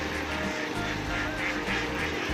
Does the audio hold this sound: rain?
no